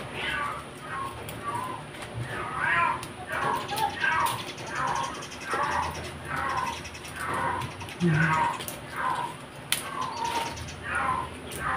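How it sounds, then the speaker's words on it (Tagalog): A pet cat in heat meows over and over, with drawn-out wailing calls repeating at a steady pace, fairly close, over low indoor background noise. "naririnig nyo ba yung pusa ko?"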